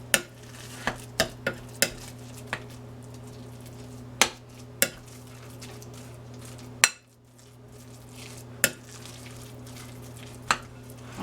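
Spoon stirring a salmon patty mixture in a bowl, giving sharp intermittent clinks and scrapes at an irregular rhythm over a steady low hum, close and fairly quiet.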